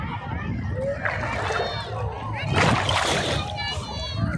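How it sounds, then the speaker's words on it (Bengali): Water splashes and sloshes around a bather taking a dip in a chilly river at Bakkhali, under continuous nearby talk with other voices in the background. "চলো আরও একটা ডুব দিয়ে জল থেকে বিদায় নিই"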